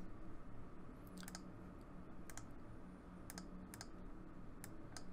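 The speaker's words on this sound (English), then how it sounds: "And I'll just click update." Several faint, sharp mouse clicks while working in After Effects, some falling singly and others in quick pairs, spread across a quiet desk background with no talking.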